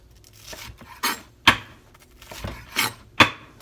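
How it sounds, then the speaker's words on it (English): A knife cuts the crusts off a peanut butter and jelly sandwich in a handful of crisp separate slicing strokes, close and fairly quiet, with brief pauses between cuts. "I'll cut the edges off for you."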